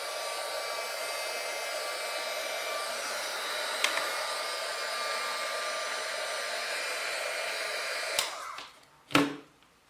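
A heat gun powered by a PowerOak PS5 400Wh solar generator blows with a steady, hissing whir for about eight seconds, then clicks off, followed by a couple of sharp knocks.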